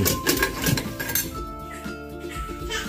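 A metal lid is set onto a cooking pot of seasoned soup with onion and celery, making a few close clinks and rattles of metal on metal, then a quieter ringing as it settles.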